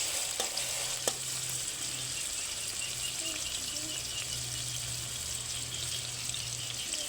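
Garlic paste hits hot oil in a pan while fish and pumpkin are being cooked, producing a steady, soft, hissing sizzle that holds evenly throughout at moderate volume.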